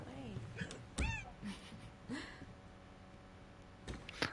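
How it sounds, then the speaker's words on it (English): A cat meows several times in a game on PlayStation, short rising and falling cries scattered across a few seconds, fairly close, with a sharp burst near the end. "The cat flipping scared me."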